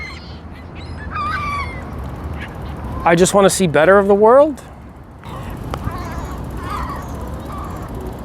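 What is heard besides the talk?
geese honking while eating bread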